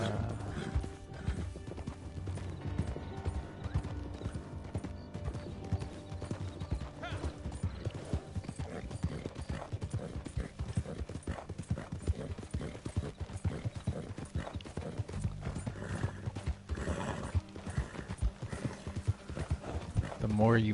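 Horse hooves clip-clop in a steady, rapid rhythm in a video game, running nonstop with an occasional whinny while someone talks over it.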